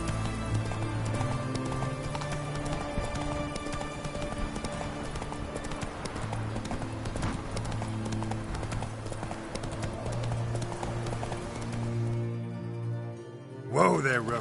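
Roach, a horse in the video game The Witcher 3, trots with steady clip-clopping hooves over game music, and a close whinny breaks out near the end.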